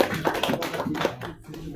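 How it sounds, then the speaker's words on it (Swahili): Mourners clapping at a funeral service at a funeral home, a short burst of loose, uneven hand claps mixed with voices, fading out after about a second. "Pia Yesu makofi."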